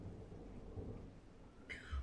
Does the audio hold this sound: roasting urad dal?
no